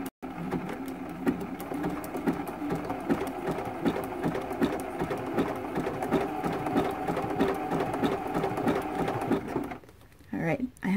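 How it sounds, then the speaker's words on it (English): A sewing machine runs a satin stitch along the edge of an appliqué quilt piece, giving a continuous rapid mechanical chatter at close range that stops briefly near the end. "I'm going to go ahead and do a satin stitch along this edge of our applique piece."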